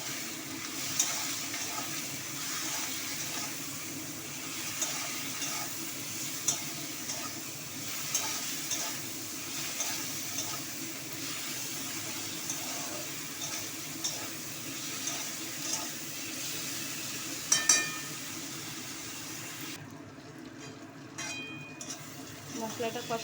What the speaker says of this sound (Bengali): এবার এই মশলাটা এখানে দিয়ে দেবো, সাথে টমেটোগুলো দিয়ে দেবো।